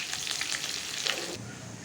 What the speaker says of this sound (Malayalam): അതിലോട്ട് 1/2 സ്പൂണ് കടുകിട്ട് പൊട്ടി കഴിയുമ്പോൾ ചെറിയ ഉള്ളി 1 ടീസ്പൂൺ എടുത്തിട്ടുണ്ട്